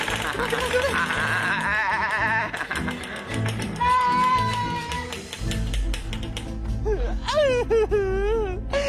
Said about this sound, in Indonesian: Sekarang nyolong kambing.